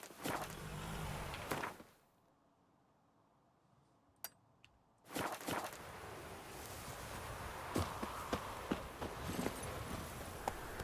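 In The Witcher 3, the horse Roach clip-clops along in a rhythmic gallop, pauses briefly into near silence, then resumes with steady hoofbeats and a few sharp clicks.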